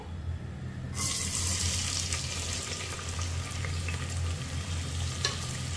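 Oil sizzles and crackles loudly as onion drops into a hot pressure cooker, a steady frying hiss starting about a second in and continuing throughout.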